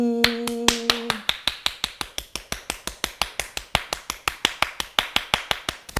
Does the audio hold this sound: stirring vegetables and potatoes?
no